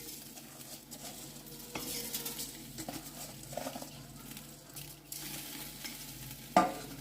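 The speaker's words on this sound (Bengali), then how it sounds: "ধুয়ে রাখা চালটা আমি দিয়ে দিচ্ছি।" Washed, drained rice for mung dal khichuri tipped into a hot pan, giving a steady low sizzle and soft stirring scrapes throughout, with a sharp clatter near the end and no talk.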